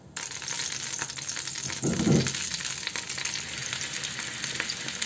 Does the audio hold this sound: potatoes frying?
yes